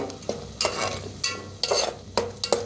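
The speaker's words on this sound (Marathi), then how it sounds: "त्याच्यात टाकूया वाटण बारीक करून घेतलेलं तर वाटणला छान असं भाजून घेऊया" Ground masala paste for katachi amti being roasted in a pan, giving steady frying crackle with several louder stirring scrapes at irregular intervals, close and alone without talk.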